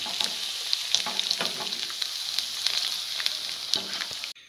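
Restaurant-style chicken fry cooking in a pan over medium flame: a dense, continuous crackling sizzle with scattered sharper pops, close and fairly loud, with no talk, cutting off abruptly at the end.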